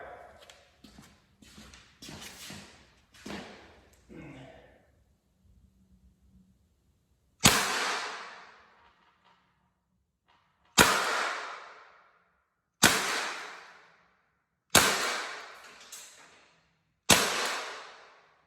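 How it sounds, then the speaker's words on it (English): An Umarex T4E Glock 17 fires five sharp shots into an air fryer at close range, each a loud isolated crack with a quick decay, spaced a couple of seconds apart after softer clicking handling sounds. "All right, that was 5 shots onto an air fryer."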